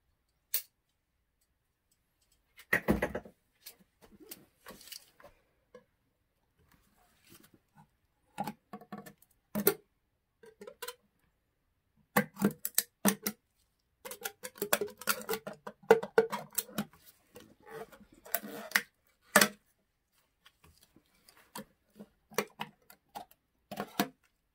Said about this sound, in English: make sure you get a sharp knife, something that you can use to cut the window